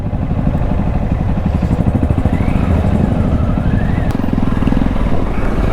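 Motorcycles on a weekend group ride set off, two at a time, onto an off-road stretch, producing a steady, close, rumbling engine drone with clattering undertones and no break.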